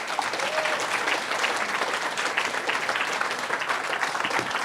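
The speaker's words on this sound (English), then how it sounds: "And so let's give them a round of applause" A seated audience gives a steady, sustained round of applause at an event welcoming new members, filling the room evenly from start to finish.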